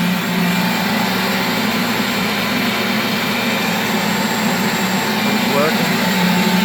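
A shop dust collector fitted with a larger drum and an Oneida Dust Deputy cyclone runs with a loud, steady whooshing roar and hum, unbroken from start to finish.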